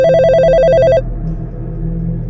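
A telephone rings indoors with a shrill electronic warble that pulses rapidly for about a second and then cuts off, leaving a low hum. No one speaks.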